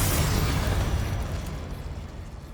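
A Confringo blasting spell detonates in the Hogwarts Legacy video game, a loud booming explosion whose roar rolls out at full force and then slowly decays over a couple of seconds, with no one talking.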